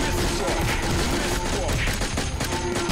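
Continuous dense rapid gunfire from a sentry gun in a video game, loud and unbroken throughout with chaotic game noise layered underneath.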